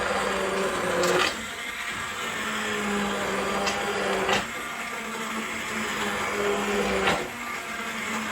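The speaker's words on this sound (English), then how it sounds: "I've got a stick blender here" A stick blender runs loudly and continuously, its motor pitch dipping briefly a few times as it churns through wild garlic and potato soup.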